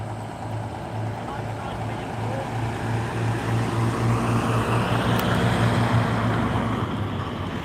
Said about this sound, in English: There's a truck coming out now, which I guess is a truck that's leaving, it's empty.